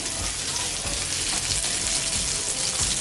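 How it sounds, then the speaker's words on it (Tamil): Fish pieces fry in hot oil for a fish biryani, giving a loud, close, unbroken sizzle with crackling spatter throughout. "இப்போ மீனை பொரிச்சு எடுத்துடுவோம்"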